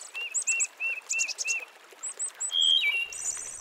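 A water thrush by a stream in early October gives a run of short, clear chirps in quick repeated bursts, close and distinct over a quiet background, ending with a faster twittering series.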